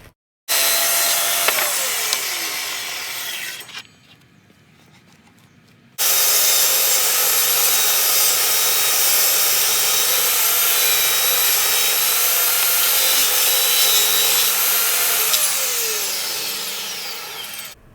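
A power saw cuts wood pieces for a recessed wall shelf box, a loud continuous whining roar in two passes separated by a short quieter pause, with no talking.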